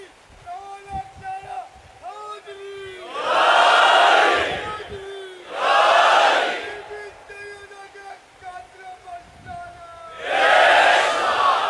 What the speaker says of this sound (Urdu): یہ دوبارہ نعرہ لگاؤ اور سب جواب دیں اس کا